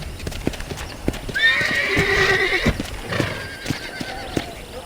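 A horse in the video game Red Dead Redemption 2 gives a loud, close whinny while its hooves clop in a steady walking rhythm, on a farm by a cattle pen, with no talk over it.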